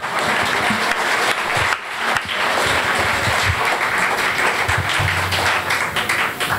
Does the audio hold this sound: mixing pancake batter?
no